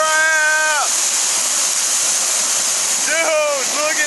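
Water pours out of a lake spillway along a country road in a loud, constant roar, while birds chirp in short bursts at the start and again near the end.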